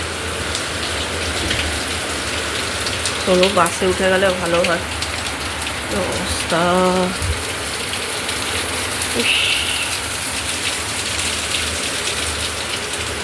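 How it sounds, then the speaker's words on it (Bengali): Heavy rain pours steadily and loudly throughout, with someone speaking briefly over the downpour. "জোর বৃষ্টি নেমেছে।"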